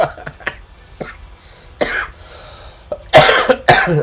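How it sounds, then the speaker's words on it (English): Several harsh coughs come close to the microphone, scattered at first, then a louder cluster of coughing near the end. "Sorry about the coughing, guys."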